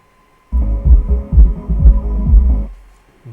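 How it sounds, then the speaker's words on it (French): Cooling fan running inside a Deaf Bonce Atom 500.2 Pro car amplifier under repair, switching on abruptly as a close, throbbing low hum with pulsing beats for about two seconds, then cutting off. "On entend le ventilateur tourner."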